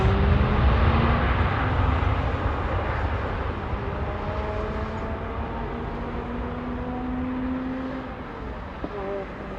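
Airliner departing on runway 27R at London Heathrow Airport, a loud continuous engine roar with rising and falling tones that slowly fades as it climbs away.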